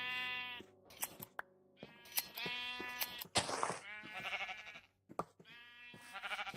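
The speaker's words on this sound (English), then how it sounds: "Now I need to find those sheep again." Sheep in Minecraft bleat in a quick run of close, clear calls, several overlapping with brief gaps. Occasional soft game clicks are heard, and no one speaks.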